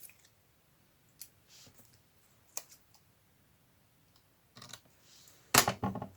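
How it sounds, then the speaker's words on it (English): Paper being cut into two sections for a vintage photo-strip booklet, a few faint, sparse snips and clicks close by, ending in a louder burst of crisp cutting and rustling, with no talking. "Okay, I'm going to cut this in 2"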